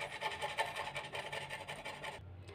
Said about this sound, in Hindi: अब हम अदरक लहसुन को कद्दूकस कर लेंगे अदरक घिसने वाले से।